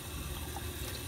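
Warm tap water running while a pet is washed, a steady close faucet stream with a full, even rushing hiss and no voices.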